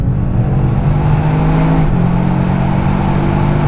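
A Toyota GR Yaris automatic accelerates hard on the Nürburgring Nordschleife, its engine note loud and steady from inside the car, pitch climbing smoothly with a brief dip at a gear change.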